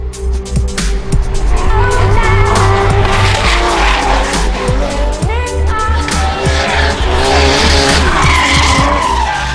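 A drift car at a D1NZ drift round in New Zealand slides sideways with loud, sustained tire squeal over a roaring race engine, continuous and close throughout.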